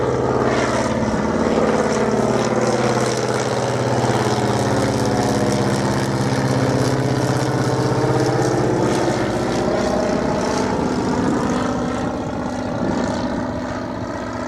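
A propeller airplane does a low flyover at an airfield campsite, its loud, droning engine sweeping past up close and then easing off slightly.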